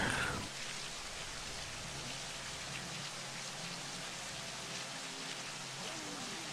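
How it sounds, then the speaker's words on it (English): Heavy rain in a Formula racing video game at the Canadian Grand Prix in Montreal, a dense, even hiss of downpour lasting throughout after a brief louder opening, with no clear talk over it. "And it's raining! Oh, it's raining a lot."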